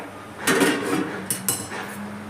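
A metal lid clatters down onto a karahi of simmering prawn malai curry, a short clanging contact followed by a second lighter clink, with a low kitchen hum underneath.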